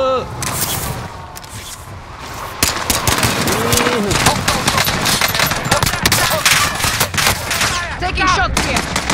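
Rapid bursts of gunfire in a battle royale video game, loud and dense, with layered shots and impacts sounding close throughout.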